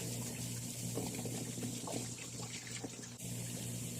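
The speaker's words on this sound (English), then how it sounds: "I'm going to dump the next one in this clear container so I can see if there's any sediment" Rinse water poured out of a rusty fuel tank into a clear container, a steady continuous splashing pour that runs loud and close for about three seconds, then stops abruptly with a short quieter tail.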